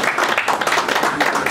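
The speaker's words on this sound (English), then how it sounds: "Round of applause." Audience applause following a university lecture, a steady wash of many hands clapping at moderate loudness throughout, with possible faint voices mixed in.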